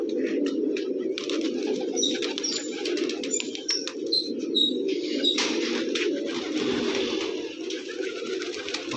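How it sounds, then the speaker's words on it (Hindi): Pigeons cooing on a rooftop among a large flock of colourful pigeons, a steady low murmur of coos with scattered sharp chirps and brief wing flaps, fairly close and continuous. "माशाल्लाह कमाल के कबूतर जनाब इनकी छत पे मौजूद हैं"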